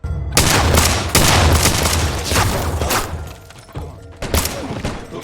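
Heavy bursts of gunfire from a TV show rattle in rapid succession, loud and booming, with brief lulls before another volley erupts.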